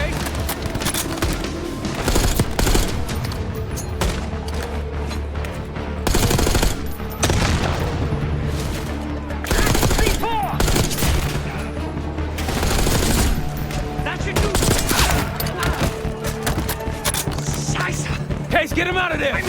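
Heavy cover fire during a bridge assault in Call of Duty Black Ops 6, with loud machine-gun bursts and explosive booms recurring in waves under shouted voices and dramatic game audio.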